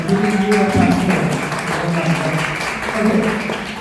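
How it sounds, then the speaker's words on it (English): An audience at an AEON event claps in a sustained round of applause, with a voice talking over the clapping throughout. "huge round of applause to AEON for giving you a platform"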